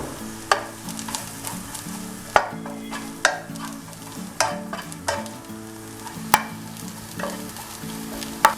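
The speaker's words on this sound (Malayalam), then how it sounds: "ഇപ്പോൾ ഈ മസാല എല്ലാം നന്നായി മൂത്ത് വന്നിട്ടുണ്ട് കേട്ടോ." Chicken masala fries in a pan for biryani, a steady close sizzle broken by regular sharp clacks and scrapes of a stirring spoon every second or so, with no talking.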